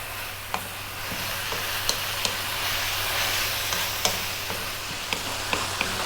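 Spicy butter prawns frying in a pan, a steady dense sizzle with regular sharp clinks and scrapes of a utensil stirring them, close and loud with no talking.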